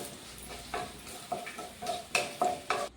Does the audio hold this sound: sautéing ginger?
yes